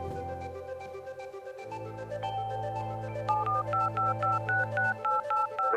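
A phone keypad dials a number: a low steady dial tone gives way to a rapid series of short, evenly spaced touch-tone beeps, clear and close with no talk.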